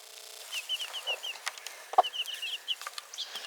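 Backyard chickens clucking in short, soft repeated calls near a compost area, with a louder single squawk partway through and quiet ambient noise around them.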